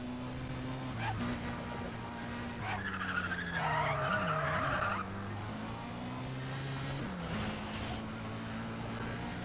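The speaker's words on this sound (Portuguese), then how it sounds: "Esse barulhinho de pneu cantando é puro Need for Speed The Run" Tires squeal repeatedly in the Need for Speed World racing game, a steady screech running under a constant engine drone for the whole stretch, loudest in the middle, with no talk over it.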